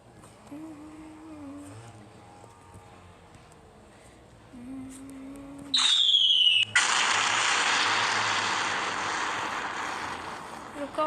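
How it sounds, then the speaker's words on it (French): In the Ragdoll Playground video game, a huge nuclear bomb is spawned and detonates. A sudden sharp descending whine gives way to a loud, sustained roaring blast that slowly fades, following a quieter stretch of game sounds and someone speaking. "on spawn la plus grosse bombe nucléaire du monde"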